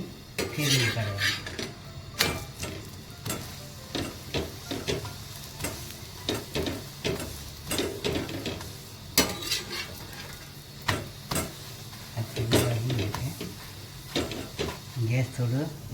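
Oiled pumpkin thepla sizzles softly on a hot griddle and is flipped, with frequent close metallic clinks and scrapes of a spatula against the pan over a steady frying hiss.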